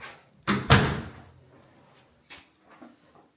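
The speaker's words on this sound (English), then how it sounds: "I'm going to close this door so we get a better idea of what's going on in here." A pair of hotel bathroom doors shutting one after another, each closing with a solid thud, the second louder, followed by fainter softer knocks and quiet room tone; no talking.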